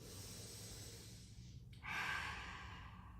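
A slow, audible deep breath during a ballet floor stretch, a soft inhale followed by a fuller, breathy exhale close to the microphone, with no talking.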